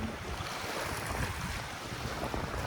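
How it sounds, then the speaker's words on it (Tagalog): Strong wind blows across Dolomite Beach on Manila Bay in the afternoon, a constant roaring gust buffeting the microphone over the wash of waves, with no voices. "malakas ang hangin."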